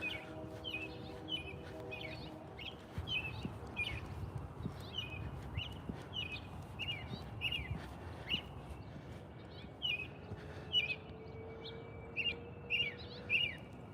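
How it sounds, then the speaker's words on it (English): Small birds chirp in repeated short bursts outdoors, faint and somewhat distant, over a low background rumble. "Can you hear the birds?"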